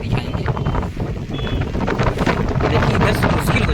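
Strong wind buffeting a phone microphone outdoors during a flood in Prayagraj, loud continuous rumbling gusts with rattling bursts, a faint voice briefly mixed in.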